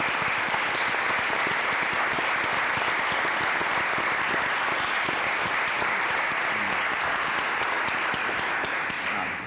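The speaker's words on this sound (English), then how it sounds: "solid round of applause." A courtroom audience gives four moot court competitors a solid round of applause, dense continuous clapping from a sizeable crowd, steady and loud for nearly ten seconds before tapering at the end.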